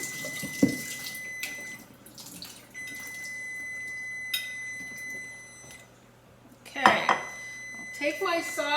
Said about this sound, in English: I'm just going to rinse this under the tap